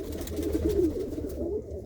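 A Shah Akhi breed pigeon, ringed with a yellow leg band, coos low and steadily in a soft continuous run, close and alone with no voices.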